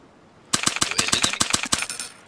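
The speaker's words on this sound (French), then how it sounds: "Et c'est parti pour les tirs." Automatic gunfire in the DayZ video game: a rapid burst of about a dozen sharp, loud shots in an even rhythm, heard close and alone after a silent start.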